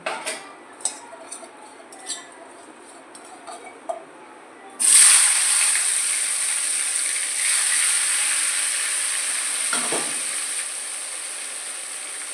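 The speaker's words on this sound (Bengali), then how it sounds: "এবার আমি সর্ষের তেলে আবার একটু নুন হলুদ মাখিয়ে উচ্ছেগুলো ভেজে নেব" Boiled bitter gourd coated with salt and turmeric hits hot mustard oil. A few light clicks and taps come first, then a sudden loud, steady hiss and sizzle that holds to the end.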